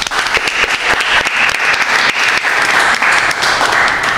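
A studio audience bursts into steady, dense applause at close range, clapping continuously and evenly for about four seconds with no break.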